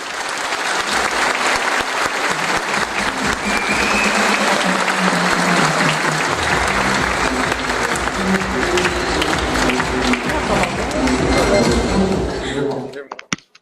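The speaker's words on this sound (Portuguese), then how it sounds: "eu gostaria que vocês me ajudassem a receber com uma calorosa salva de palmas o nosso diretor jurídico, meu amigo Fernando Lusvari, por favor." Sustained, loud applause from a conference audience welcoming a legal director onstage, dense steady clapping that carries for about thirteen seconds before stopping abruptly, with speech-like murmur blended underneath.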